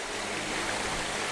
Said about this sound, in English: these giant waterfalls just falling down right onto these rocks